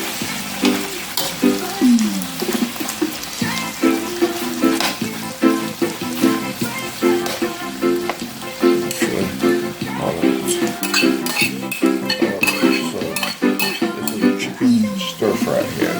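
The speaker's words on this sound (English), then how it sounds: "Stir fry here that I'm working on." Chicken chop suey with tomatoes and scallions stir-frying in a pan, a steady loud sizzle broken by repeated rhythmic scrapes and tosses of the utensil throughout, close and continuous with no talking.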